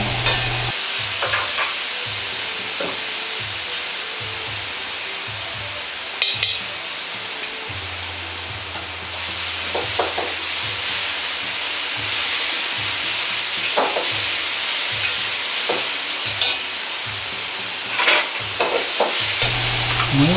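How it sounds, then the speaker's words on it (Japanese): Meat stir-fried with carrot and doubanjiang in a hot pan gives a loud, continuous sizzle, broken by intermittent scrapes and clatters of a spatula as the food is tossed, close and without voices. "人参と豆板醤を小さじ1で炒めます。"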